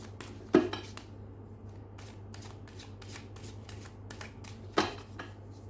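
A deck of cards is shuffled in rapid riffles and flicks, with two sharper slaps standing out against a quiet steady hum and no talking.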